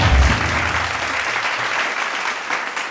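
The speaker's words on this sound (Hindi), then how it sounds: "तो तालियों के साथ स्वागत किया जाए।" A studio audience claps to welcome a guest, with dense, steady applause that holds at a loud level for the whole stretch, with no voices over it.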